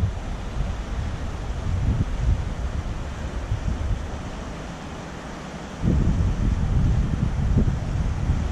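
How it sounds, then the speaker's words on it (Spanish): Swollen Pisuerga river in flood rushing past a riverside walk and bridge arch in Valladolid, a steady broad roar of water mixed with wind buffeting the microphone, growing louder toward the end. "No tenéis nada más que ver la corriente que lleva el agua, el cauce del río."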